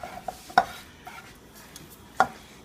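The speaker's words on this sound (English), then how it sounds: "give this one last little stir" Homemade potato soup is stirred in a pot: a few faint scrapes and light clinks of a utensil against the pot, with two sharper knocks standing out over quiet background.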